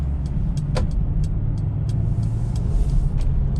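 A 2021 Mercedes-Benz GLB 250 with its base 2.0-litre turbo engine heads onto the highway. A steady, loud road and engine rumble fills the cabin, with faint ticks on top and no talk.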